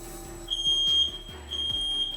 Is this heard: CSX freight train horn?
no